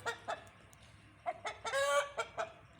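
An upset rooster clucks and squawks in short, agitated bursts while being handled on a poultry farm, rising to a louder drawn-out cry near the end, fairly faint with low background noise.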